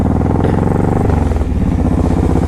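A Honda VTX 1800, a big heavy cruiser motorcycle, with its engine running loud and close. A deep, steady rumble rises and falls slightly as the throttle is worked over a couple of seconds.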